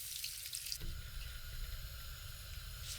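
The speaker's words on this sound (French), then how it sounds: "J'ajoute 400 ml d'eau pour cuire et attendrir la viande." Water pours from a container into a pan of caramelized pork ribs with corn. It starts with a brief splash and then settles into a quiet, steady trickle and slosh that lasts a few seconds. Nobody speaks.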